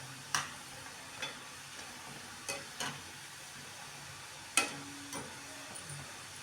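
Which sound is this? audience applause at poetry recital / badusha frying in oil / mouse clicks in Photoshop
badusha frying in oil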